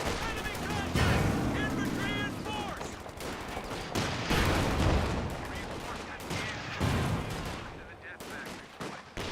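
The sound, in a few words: bazooka and gunfire hitting a Panzer in video game Company of Heroes 2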